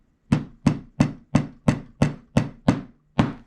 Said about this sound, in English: And so now I'll take my hammer